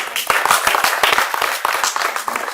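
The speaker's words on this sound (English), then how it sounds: "Give her an applause, please." A lively burst of clapping from an audience saluting an artist at a fiber and pigment art event, dense and close with a few sharp individual claps standing out.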